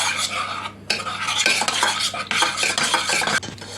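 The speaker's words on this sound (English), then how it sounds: "But keep stirring it at all times." A spoon stirs lemon meringue pie filling in a pan with boiling water, scraping and clinking steadily and close up, with a low hum underneath and no talking.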